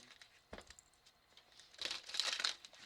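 Tarot cards rustle and flutter in a brief shuffle, with a soft tap first and then a quick crisp riffle, close by and quiet.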